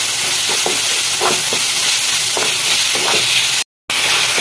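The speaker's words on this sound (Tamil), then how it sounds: "குடமிளகா போடலாம் நல்லா வதக்கணும்" Capsicum sautéing in a pan with green chillies and curry leaves for an egg pepper gravy, a loud continuous sizzle with repeated scraping stirs of a spatula, and a brief silent gap near the end.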